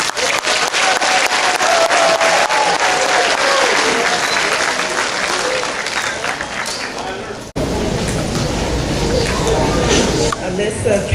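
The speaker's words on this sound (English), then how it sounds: "if everyone please give our fifth graders a round of applause" Audience at an elementary school fifth-grade promotion ceremony applauding loudly and continuously, with cheers and crowd murmur mixed into the dense clapping throughout.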